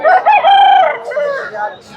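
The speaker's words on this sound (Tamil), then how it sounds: "அடுத்து பாருங்கள் நாட்டுக்கோழி அப்படியே துள்ளுது பாருங்கள்." A country chicken at the Kundarapalli Friday open market in India crows and clucks loudly at close range, with a long strained call followed by shorter broken notes.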